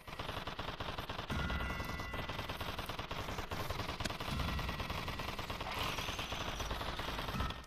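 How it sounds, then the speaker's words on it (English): Machine guns fire in a tower defense video game, with dense, continuous rapid bursts that go on without a break at a steady loud level. "Now you have two machine guns."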